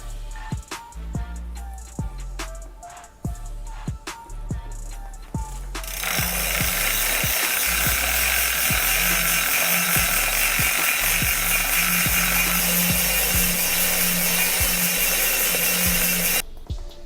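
A cheap, worn bike chain cleaner runs over a dirty chain indoors. Rhythmic ratcheting clicks give way to a loud, continuous whirring hiss that stops abruptly near the end.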